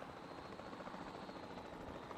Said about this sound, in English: let's jump back in our helicopter